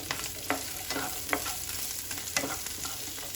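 Onions for paneer tikka masala fry in a pan and are stirred, giving a steady soft sizzle broken by several distinct scraping strokes about once a second, close and moderately quiet, with no talking.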